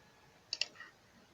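Two quick computer mouse clicks close together, then a softer third click, crisp and near against a quiet background while setting up a database model.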